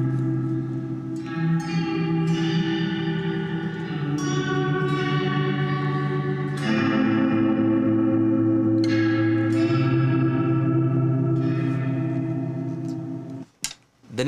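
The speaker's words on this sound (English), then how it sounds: "Let's go to the pad option to see what that sounds like." Pad setting on an Enya NEXG 2 smart-audio acoustic guitar: chords strummed and sustained under a lush, reverberant, chorus-like wash that swells and overlaps for many seconds, ending in a brief burst of handling noise, with no talking.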